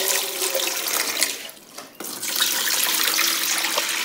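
Tap water runs steadily into a pot of chopped red cabbage being prepared for a homemade natural dye, a continuous close hiss with a brief dip midway.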